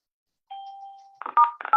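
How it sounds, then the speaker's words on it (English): Electronic conference-call chimes: a sustained tone followed by a pair of quick bright ding-dong notes, clear and alone with no talking. "Anita, do you remember how to turn off the chimes?"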